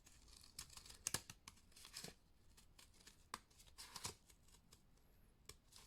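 Scissors snipping through paper to cut out a panda outline, a quiet, close series of irregular crisp cuts and rustles with short pauses between them.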